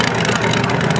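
Pulling tractor with a rebuilt Ford 351, four-valve heads, fuel injection, running on methanol, idling at a dirt drag event; a loud, steady, lumpy low rumble fills the short moment without talk.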